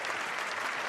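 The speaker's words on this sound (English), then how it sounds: "Play that applause again. Give the host that applause." Recorded applause plays as a sound effect to cheer a host: a brief, continuous patter of many hands clapping at steady loudness, with no talking.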